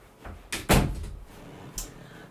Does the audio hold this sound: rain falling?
no